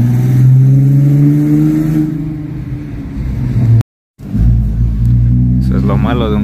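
A six-cylinder Volkswagen Jetta A4 Mk4 engine rumbles deeply and steadily at idle, with a brief cut-out in the middle and a voice speaking over it toward the end.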